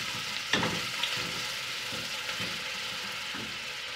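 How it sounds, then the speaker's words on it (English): Ginger garlic paste sautés in a pan, giving a steady close sizzle broken by a few scraping spatula strokes, with no talking. "now I'm adding ginger garlic paste. Just saute it for a while."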